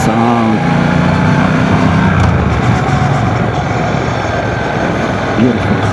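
A 1200cc motorcycle engine heard while riding, a steady loud drone with wind rush running throughout, and a brief voice near the start.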